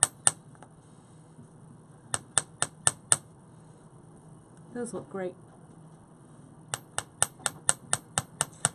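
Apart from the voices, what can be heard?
hammering metal wire earring components flat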